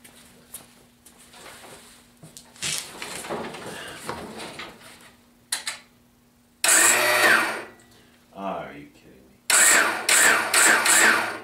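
The starter on a 1975 Gilson Hydro-16 tractor cranks in two loud, close bursts after a quieter stretch, and the engine never catches.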